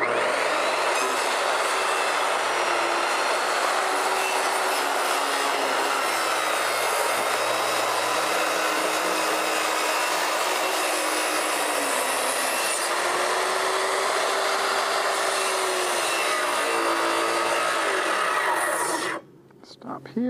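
Power tool cutting along the curved outside edge of a cedar wood deck on a lake, a loud continuous whining saw drone with shifting pitch lasting most of the time, then stopping abruptly near the end.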